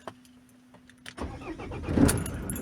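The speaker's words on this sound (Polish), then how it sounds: "wkładamy kluczyk do stacyjki, kontrolki," A Ford Transit mk7 van is started with the ignition key: a faint click and quiet hum, then the engine cranks and catches into a loud, rough running idle that stays close and steady.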